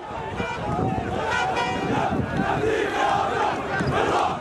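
Crowd of Islamist protesters clashing with regime supporters in Amman, Jordan, a dense roar of many shouting voices sustained throughout, loud and close, with wind buffeting the microphone.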